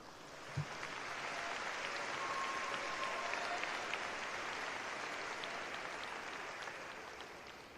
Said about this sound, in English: I ask that our seniors give all of you in this room a grateful round of applause for all of your support.